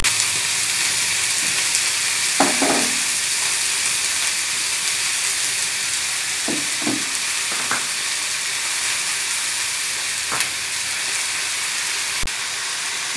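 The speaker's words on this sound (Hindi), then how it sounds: "सारी सब्जियों को डालकर थोड़ी देर के लिए साफ होने तक पका लेंगे।" Mixed vegetables for a restaurant-style sabzi sizzle and fry steadily in a pan, a continuous close hiss with a few soft clinks and stirring knocks scattered through, no voices.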